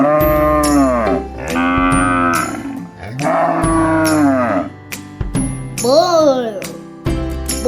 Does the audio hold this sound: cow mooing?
yes